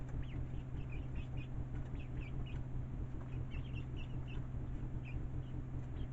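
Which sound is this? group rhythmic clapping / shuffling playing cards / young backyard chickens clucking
young backyard chickens clucking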